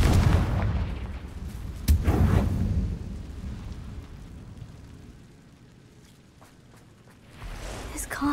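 A Confringo blasting spell bursts in Hogwarts Legacy with a loud, deep boom, a second blast close behind, then a fading rumble that falls quiet before another burst swells at the end.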